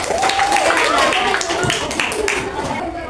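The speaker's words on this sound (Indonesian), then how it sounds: "Beri tepuk tangan buat kelompok." A classroom group breaks into a burst of clapping during a coding and AI training session, many hands patting irregularly together while voices carry on over the applause.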